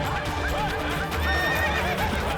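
Horse neighing loudly and close in a palace historical drama about Maharana Pratap, a sustained whinny with rising and falling squeals over a busy background of hooves and murmur.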